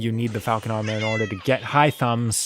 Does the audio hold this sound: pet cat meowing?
yes